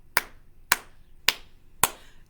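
Claps ring out at a toddler music-time gathering: four sharp, evenly spaced claps, close and crisp, with quiet between each one.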